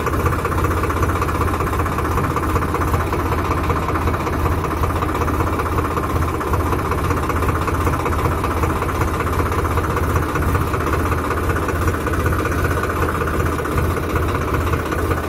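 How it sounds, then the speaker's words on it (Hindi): A tractor engine in first gear chugs steadily at low revs, a constant rumbling drone with no voices. "एक नंबर गियर में है, गाड़ी अपनी चल रही है धीरे धीरे"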